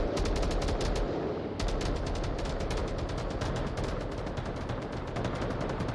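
Rapid video game gunfire fills the scene, with dense overlapping automatic bursts and shots rattling continuously and loudly throughout, with no talk.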